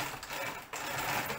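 A sewing machine stitching fabric for a large handmade dolphin costume, a brief dense mechanical whir running near and steady with a momentary dip before continuing.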